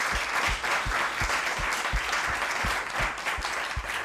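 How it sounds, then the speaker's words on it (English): Audience applause for the panelists at a conference session, steady and full clapping from a crowd that holds at an even level throughout. "please everyone give a big round of applause again for the panelists"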